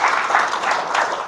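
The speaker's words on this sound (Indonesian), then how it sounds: "tepuk tangan bagi Yesus" Congregation in a church service clapping together for Jesus, a brief steady burst of applause filling the room at close range.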